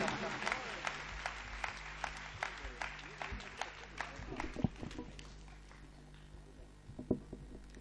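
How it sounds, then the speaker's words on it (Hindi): Applause from the audience of a Hindi comedy and poetry stage show greets poet Deepika Mahi as she comes on, with scattered claps patting along at moderate volume under a low hum and fading toward the end. "आपकी तालियां उन्हें स्वागत दें, अभिनंदन करें।"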